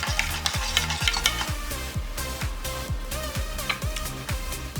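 A cranberry Moscow mule cocktail with cranberry syrup and lime juice is stirred in a steady, rapid swirl with close clinks and a continuous rushing texture.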